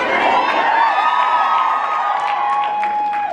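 A large fan convention crowd in Las Vegas cheers and whoops loudly, a dense continuous roar of many voices with scattered shouts and some clapping, holding steady for a few seconds.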